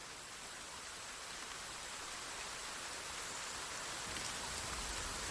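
Steady rain falls in a soft, even hiss, fairly quiet and unbroken, with no voices over it.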